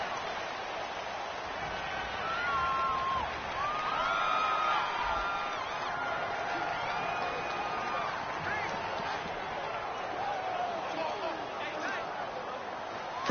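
A steady roar from a stadium crowd at a Browns vs. Buccaneers football game fills the background at constant loudness, with a commentator talking over it throughout.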